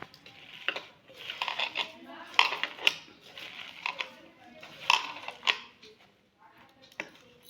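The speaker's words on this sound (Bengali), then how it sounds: "তো এই কটা উপকরণকে আমরা হাতের সাহায্যে খুব ভালো করে মিক্সড করে নেব।" Chopped coriander leaves and spices for Bengali coriander-leaf fritters mixed by hand in a bowl, giving soft squelching and irregular light clinks and knocks of the bowl over several seconds, close and fairly quiet.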